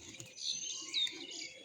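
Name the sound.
pigeons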